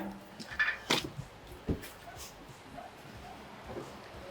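A dog barks and yips in a cluttered yard, giving a few sharp, close barks in the first second and one more shortly after before quieting.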